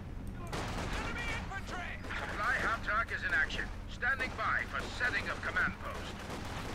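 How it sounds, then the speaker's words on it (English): Sniper rifle fire in Company of Heroes 2 amid a dense wartime battle soundscape of scattered gunfire and explosions, with a commentator talking over it throughout. "sniper opens up, gets his first kill"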